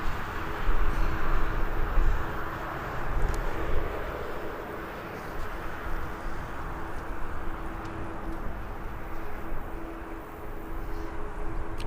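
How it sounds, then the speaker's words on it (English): Ryanair airliner passing at Birmingham airport, a broad steady engine roar holding from start to finish, loudest in the first few seconds and then easing slightly while staying continuous. "Ryanair over here."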